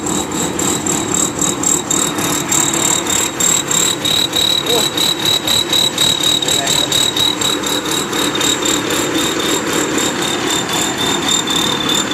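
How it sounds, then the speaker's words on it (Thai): A Kubota combine harvester engine idles loudly and steadily at close range with a continuous drone and high whine, as the machine is moved out for delivery in rural Thailand. "นี่พามาย้ายรถเกี่ยวครับผม"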